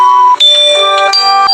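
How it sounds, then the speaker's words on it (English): Bells ring out in a bright, sustained sequence of tones, each strike ringing on and overlapping the next, loud and close with a few quick changes of pitch. "firstly, you need to ring the bells"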